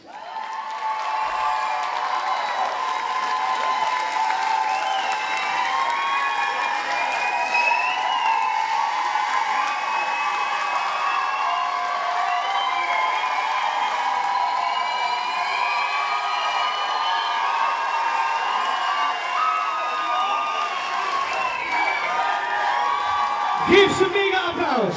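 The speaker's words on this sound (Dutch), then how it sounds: "Mag ik u daar applaus voor de 10 finalisten?" Audience at the 2016 Miss Leie Ambassadrice beauty pageant final erupts in sustained loud applause, whoops and cheering for the ten finalists, a dense roaring crowd with shouts and high voices carrying over it throughout.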